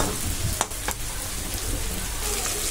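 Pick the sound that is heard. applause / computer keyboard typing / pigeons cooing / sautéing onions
sautéing onions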